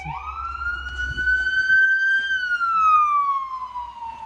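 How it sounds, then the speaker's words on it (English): A wailing emergency siren sweeps up and then slowly down in pitch, fairly loud and steady over low road rumble on a snowy day, with no talking. "Sirens."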